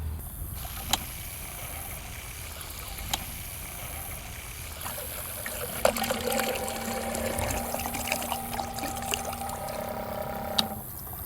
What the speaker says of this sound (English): let's turn this pump on.